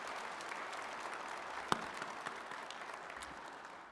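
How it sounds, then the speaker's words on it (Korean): An audience at a Yeongnam-region advanced-industry vision public report meeting claps steadily throughout, a dense, even wash of applause at moderate distance with one sharper clap standing out midway. "격려 박수 부탁드립니다."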